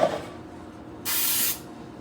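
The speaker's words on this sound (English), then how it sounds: "so we got the pan sprayed" Nonstick cooking spray hissing onto a cake pan for a box-mix pound cake: one short, bright aerosol burst of about half a second, close and fairly loud, in a quiet kitchen.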